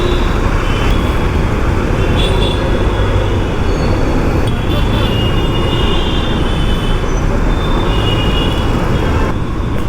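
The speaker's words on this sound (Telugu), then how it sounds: "ఇంకా అడ్డగోలుగా ట్రాఫిక్ పెరిగింది" Dense road traffic in Hyderabad forms a continuous, loud rumble of engines and tyres that rolls on without distinct breaks or nearby voices.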